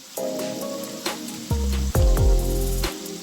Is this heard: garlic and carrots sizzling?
yes